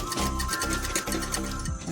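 A sewing machine runs steadily while stitching a blouse strip, giving a dense rapid mechanical chatter with a faint rhythmic ticking. It is close and fairly loud, with no voices.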